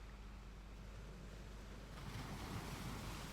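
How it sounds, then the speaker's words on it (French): Ocean waves wash gently onto a sandy shore in a steady, soft surf wash that swells a little louder toward the end, with light wind noise and no voices. "Les vagues caressent vos chevilles"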